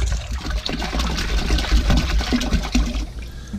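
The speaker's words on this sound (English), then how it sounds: "add some fresh vinegar. Got a full gallon in there." Fresh vinegar poured into a vinegar bath for soaking a bearded axe head, a continuous splashing, gurgling stream of liquid lasting a few seconds, close and moderately loud, with no talk.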